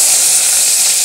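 Mustard seeds splutter in hot oil for a kara kuzhambu with brinjal and potato, a loud, dense, continuous crackling hiss up close for about a second, with no voices.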